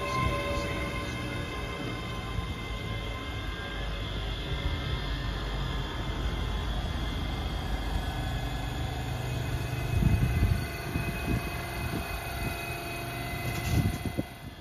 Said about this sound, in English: Departing out now is the 1047 ScotRail service from North Berwick to Edinburgh Waverley.